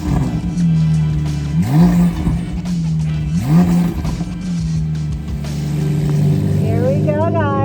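A Porsche 992 911 Turbo in Sport Plus mode accelerates hard from inside the cabin, its engine rising and shifting in repeated pitch sweeps, loud and close throughout, with a voice speaking briefly near the end.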